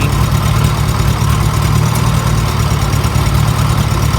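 An old Farmall H tractor engine with a choke that won't hold steady runs continuously close up, producing a loud, low, rumbling idle with a constant throb and no talking over it.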